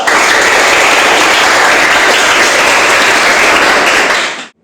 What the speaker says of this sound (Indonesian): beri aplaus pada Mas Iqbal.